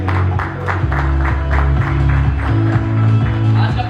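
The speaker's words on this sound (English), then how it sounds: "A big round of applause for all of you." An audience applauds the event team on stage at a 40th anniversary celebration, steady clapping throughout over music with a sustained low tone.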